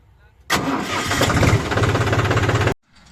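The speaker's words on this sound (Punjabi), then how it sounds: "ਜੌਂਡੀਅਰ ਨਾਲ ਕਰੀਏ ਸਟਾਰ ਟਰੈਕਟਰ" A John Deere farm tractor's engine cranks and catches loudly up close, running with a rough, steady chug for about two seconds before cutting off abruptly into near silence.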